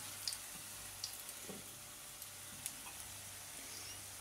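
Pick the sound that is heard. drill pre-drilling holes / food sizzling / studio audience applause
food sizzling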